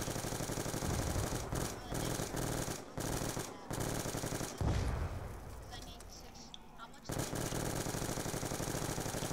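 Rapid automatic gunfire in a video game, loud sustained bursts of shots broken by short gaps, with a player's voice over the shooting.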